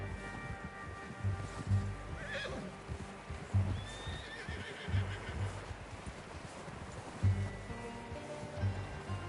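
A horse whinnies loudly in the video game Red Dead Redemption, followed by hooves clip-clopping and snorting over a low ambient background of game sound.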